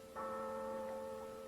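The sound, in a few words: church passing bell tolling for the dead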